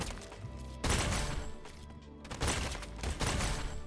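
Bursts of gunfire while shooting bots in the video game Strinova, loud dense volleys separated by a short lull amid game music and effects.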